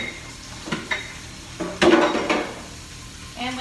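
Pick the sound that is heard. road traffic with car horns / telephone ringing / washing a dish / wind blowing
washing a dish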